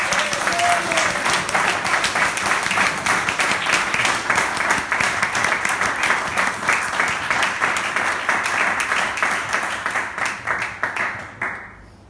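An audience at a stand-up comedy show breaks into a rapturous round of applause, dense sustained clapping that holds steady and then thins out and fades at the end.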